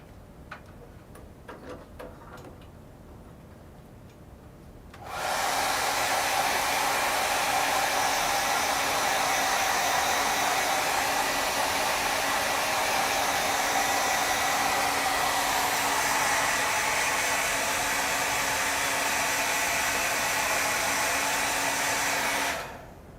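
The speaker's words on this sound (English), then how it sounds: "now I'm going to take my blow dryer and blow dry this until it's pretty dry" A hair dryer blow-drying a watercolor card switches on after a few seconds of quiet ticking and runs as a loud, steady whoosh of air for nearly twenty seconds before cutting off.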